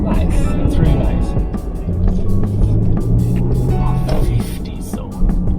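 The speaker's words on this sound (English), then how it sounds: "That's the power of the turbo diesel." A Mercedes-Benz GLE400d Coupe's turbo diesel engine pulls hard under acceleration, a steady low drone heard from inside the cabin with road noise, while someone talks over it.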